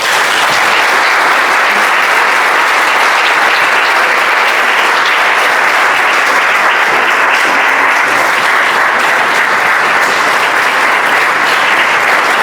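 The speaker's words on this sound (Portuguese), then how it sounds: "Uma salva de palmas" Sustained audience applause at a book launch for "Luz e Sombra", dense and steady from start to finish with no voices over it.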